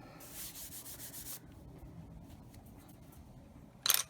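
Prismacolor colored pencil rubbed over paper to blend colors makes a close, soft, scratchy rubbing in quick repeated strokes, ending with a brief sharper scrape.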